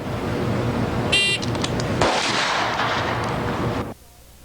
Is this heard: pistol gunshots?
yes